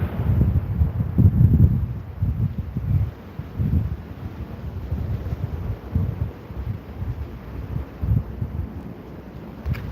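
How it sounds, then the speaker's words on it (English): Stormy wind gusts buffet the microphone in irregular low rumbling bursts, rising and falling in strength over a steady background roar, with no talking. "Wow, it's just stormy weather."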